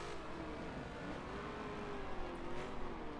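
Race car engines in a racing video game at Silverstone whine and rev together in a continuous blur of shifting engine notes, steady and fairly faint, with no voices.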